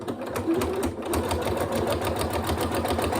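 A sewing machine stitches steadily across a zipped pencil case, a close, continuous rapid mechanical whirr with an even pulsing rhythm throughout.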